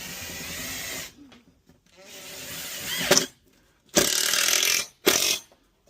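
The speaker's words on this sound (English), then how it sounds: "So now, secure our other 4 screws." A power drill or driver runs screws into a workpiece in short bursts, several separate runs of rising whine with pauses between, close and fairly loud, with some handling noise in the gaps.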